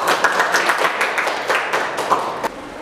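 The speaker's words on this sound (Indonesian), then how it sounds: "Tepuk tangan sekali lagi." A university class claps together in a brisk burst of applause that continues for a couple of seconds and then stops abruptly.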